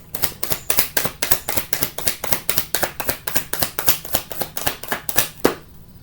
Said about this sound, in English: It's just force of habit to shuffle these.